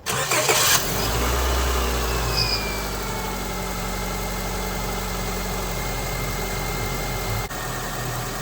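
A 2004 Honda Civic engine turns over and settles into a steady idle after a belt replacement, a low continuous rumble close by with a faint whine.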